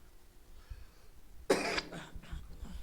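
A single harsh cough bursts out midway, close and fairly loud, after a quiet stretch of near silence.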